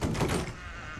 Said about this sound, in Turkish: Aç lan kapıyı.